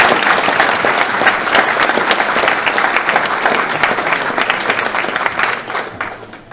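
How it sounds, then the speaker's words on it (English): A large audience at a community awards evening in Mayo gives a warm, sustained round of applause, dense and steady throughout before tapering off at the very end. "So will you give him a warm round of applause"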